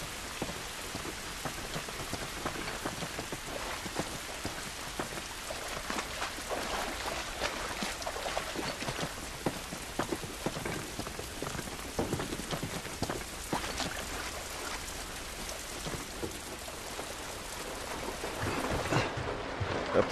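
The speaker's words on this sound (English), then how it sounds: "This rain ain't gonna do us any good." Heavy rain falls in the video game The Last of Us, a dense, continuous patter with scattered louder drops and no voices.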